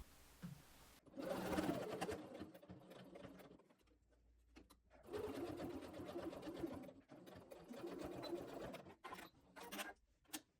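Domestic sewing machine stitching the side seams of a dress sleeve, right sides together, in two long steady runs of rapid needle chatter separated by short pauses, close and fairly loud, with no talking.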